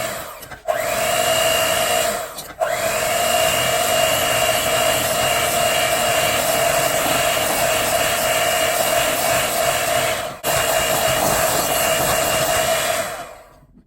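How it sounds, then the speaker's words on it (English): An electric mixer beats heavy whipping cream to stiff peaks in a steady, loud whirring drone, briefly cut off twice early on and once near the end. "Now add in a cup of heavy whipping cream and beat until they're nice stiff"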